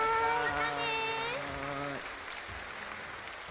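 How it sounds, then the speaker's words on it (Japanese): Audience applause at a livestreamed Arknights 6th Anniversary Fes. event rises as a voice finishes speaking, then continues as a steady, moderately loud patter. "皆さん2人をね盛大な拍手で見送ってあげてください。"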